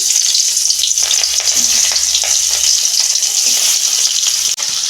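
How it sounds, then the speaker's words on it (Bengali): Spiced fish frying in hot oil makes a loud, continuous close-up sizzle with a bright, hissing crackle that holds steady throughout, broken by a brief dip near the end. "তেল গরম হয়ে গেছে মাছটা প্রথমে ভেজে নিচ্ছি"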